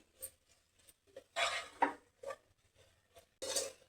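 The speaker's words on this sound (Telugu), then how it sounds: "ఈ కొబ్బరి కూడా మంచిగా వేగాలి మొత్తం కలిసే విధంగా కలుపుకొని కొంచెం కలర్ మారే వరకు వేగనివ్వాలి" Grated coconut stirred and fried in a pan at home, giving a few scattered clinks and scrapes of a utensil against the pan, with louder bursts of stirring near the middle and end and quiet gaps between.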